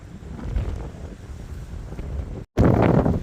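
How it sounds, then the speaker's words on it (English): Strong wind battering a microphone outdoors, a loud rough roar with gusting swells, a brief dropout, then an even harder gust; no talking. "This wind is horrendous out here."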